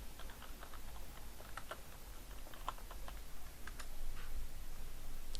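Quiet keys click irregularly on a computer keyboard while text is typed into a spreadsheet, over a low steady background hum.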